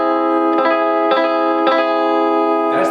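A guitar augmented triad chord, rung out and restruck several times at an even pace, each attack brief over a steady sustained tone, moderately loud and alone.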